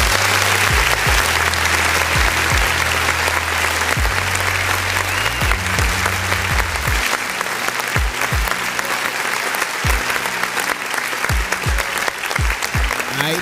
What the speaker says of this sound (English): Let's give a round of applause to Twerk Nose, aka Andre, for that right there